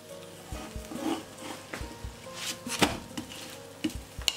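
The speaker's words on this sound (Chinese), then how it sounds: "盖上盖子，烙上两分钟" Pumpkin and egg pancake pan-frying under a lid, with a low sizzle beneath scattered clinks and taps of a pan and utensils, close and moderately loud.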